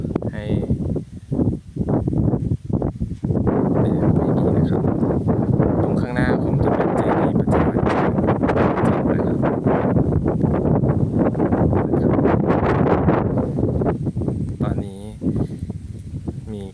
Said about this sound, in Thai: ลมเย็นมากนะครับทุกคน